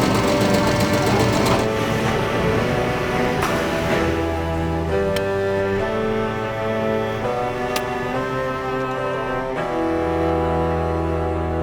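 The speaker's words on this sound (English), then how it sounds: "the embroidery station where we have 6 and single head machines that can pump out 400 to 500 gloves a day" Six-head and single-head embroidery machines stitch into leather baseball gloves, a steady loud mechanical whirring hum with rapid needle chatter and shifting pitch, continuous throughout with a voice talking over it.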